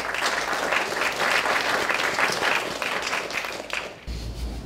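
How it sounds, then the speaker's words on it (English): Sustained audience applause at an awards ceremony, dense and steady clapping that fills the room for about four seconds before cutting off abruptly into a low rumble. "Give a round of applause for Erica Yakulik"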